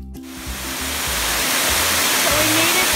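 A big waterfall near Macaw Lodge in Jaco, Costa Rica, roaring as a steady broadband wash that swells in over the first moment and then holds loud and continuous, close by.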